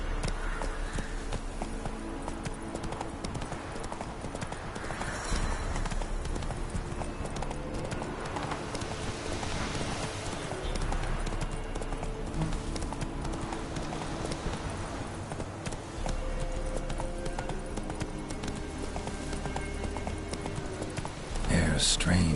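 Roach, Geralt's horse in The Witcher 3: Wild Hunt, gallops steadily throughout with continuous rhythmic hoof clip-clop over game music and ambience, while a voice talks briefly over it.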